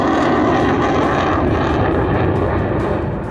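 Rafale fighter jet flying low over an expressway in an Indian military show, a loud continuous roaring rush of engine noise that fills the whole stretch without pause.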